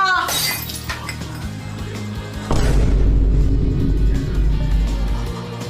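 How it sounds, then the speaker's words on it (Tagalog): A vase shatters with a bright crash and tinkling shards, followed by a heavy low boom and sustained rumbling noise in a comedic home skit with chatter around it. "Nabasag mo yung base ni Mama!"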